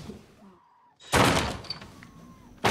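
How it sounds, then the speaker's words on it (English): Heavy door kicked in a Halloween video game: a loud sudden crashing thud after a quiet stretch with faint speech, then a lingering rattle and a second sharp blow at the end. "Well, obviously he's kicking the door down."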